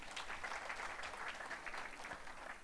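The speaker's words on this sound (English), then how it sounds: "You can also clap for yourselves." Audience applause at a digital transformation summit in Diani, a steady dense clapping of a full hall that holds evenly throughout, with no voices over it.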